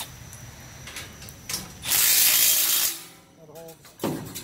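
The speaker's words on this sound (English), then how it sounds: "just use something, a ratchet or an impact, to crank it down." A ratchet cranks down a bolt on a 60-inch ramp during installation, giving a loud sustained rapid clatter for about a second, with scattered mechanical knocks and clanks around it and a person speaking briefly.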